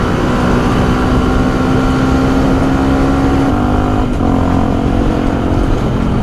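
A supermoto 125 WRX motorcycle rides on a road with a loud, steady engine drone and heavy wind rumble that hold constant throughout, with a slight dip in pitch partway through.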